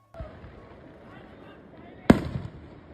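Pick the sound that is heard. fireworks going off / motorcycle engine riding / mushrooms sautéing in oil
fireworks going off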